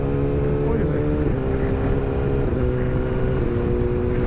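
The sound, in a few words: Suzuki GSX-R1000R motorcycle accelerating and shifting gears with quickshifter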